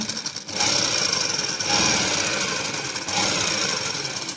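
A sewing machine stitching the sleeve of a Pakistani-style garment runs in rapid, continuous mechanical bursts, close and fairly loud, with a short pause before starting up again, no voices.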